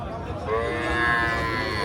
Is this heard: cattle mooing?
yes